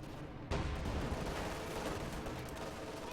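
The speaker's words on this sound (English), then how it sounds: "Panther's causing significant damage with his triple MGs" Rapid machine-gun fire from a Panther tank's three MGs in Company of Heroes 2 starts abruptly after half a second of quiet and keeps up as a dense, loud rattle of overlapping shots mixed with battlefield noise.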